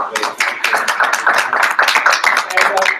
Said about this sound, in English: may at least the rest of us here just give you a round of applause